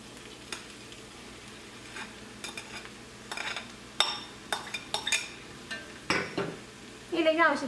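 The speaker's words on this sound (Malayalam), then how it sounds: "ഇതിലേക്ക് നമ്മൾ ഉടച്ച് വെച്ചേക്കണം ഉരുളക്കിഴങ്ങ് ചേർക്കാം" Mashed potato being added and stirred into sautéed onions in a pan over medium flame, with a light sizzle under scattered clinks and scrapes of a utensil against the pan, growing busier toward the end.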